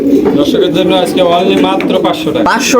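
Imported fancy pigeons coo in a loud, continuous chorus close by at a pigeon sale, with people's voices mixed in.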